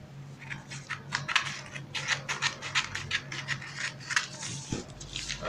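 Scissors cut through a paper pattern for an off-shoulder blouse, a close, quiet run of rapid crisp snips and rustling scrapes, with a brief knock near the end and no speech.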